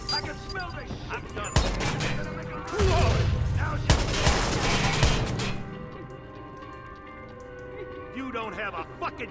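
Rapid bursts of gunfire crackle loudly in several volleys in the video game Watch Dogs, mixed with game sounds and a voice speaking over the action.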